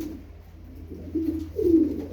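Tumbler pigeons coo nearby in a loft: two or three low, throaty rolling coos grow louder toward the end, over a quiet room hum.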